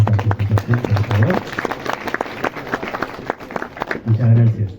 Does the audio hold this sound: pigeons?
no